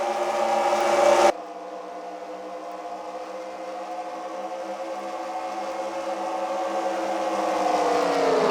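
NASCAR Winston Cup race cars in a video game Twin 125s qualifier at Daytona drone past with a steady, loud engine roar that briefly swells then settles into a sustained sustained hum rising slightly toward the end.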